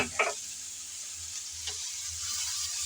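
Sliced green chilies fry with an onion mixture in a pan, giving a soft continuous sizzle close by, with a brief clatter of stirring near the start and another faint scrape midway.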